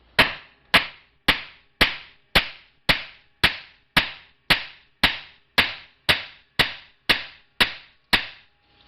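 A hammer strikes copper on a hard surface while a pressure flaker is forged, about fifteen sharp metallic blows at an even, steady pace, close and loud, each ringing out briefly before the next, with no talking.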